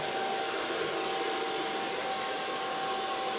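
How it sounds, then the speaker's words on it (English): A hair dryer blows steadily on a blonde hairstyle in a salon, a constant, close whooshing roar with a thin whine that holds unchanged throughout, with no talking. "Now, so far blow drying."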